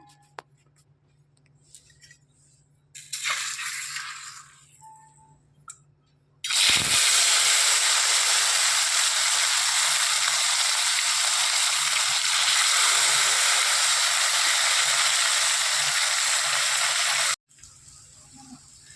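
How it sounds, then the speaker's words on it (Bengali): Fish coated in salt and turmeric is dropped into hot oil in a wok. After a quiet start and a brief hiss, a loud, steady sizzle runs for about eleven seconds, then cuts off abruptly. "এখন কড়াই তেলও দিয়ে দিচ্ছি গরম হয়ে গেছে তখন চলো মাছগুলো ছেড়ে দিই এবার মাছগুলোকে ভেজে নেই"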